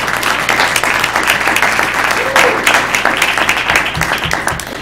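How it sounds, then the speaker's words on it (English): Audience at a school board meeting gives a sustained round of applause, dense steady clapping filling the room for about five seconds with a faint hum underneath. "Let's just give them a round of applause for that."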